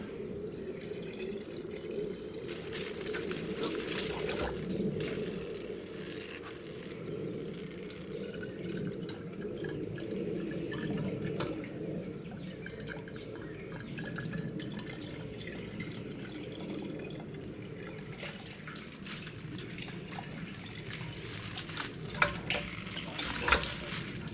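Water trickles and splashes steadily from a freshly primed secondary well, a continuous close wash of flow with a few louder splashes near the end.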